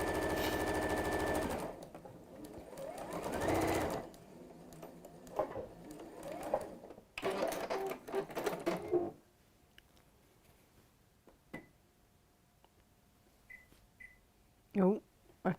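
A sewing machine zigzag-stitches down the side seams of joined fabric, running loud and close for a few seconds before breaking into shorter intermittent bursts, with a person talking over and between them.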